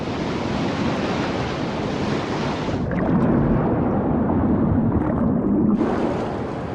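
Rough ocean surf rolls in on a heavy-wave day, a loud, continuous roar of breaking water and wind noise that swells in the middle and eases again, with no voices.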